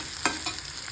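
Onion gravy fries in a pan with a close, continuous sizzle and a couple of brief stirring scrapes.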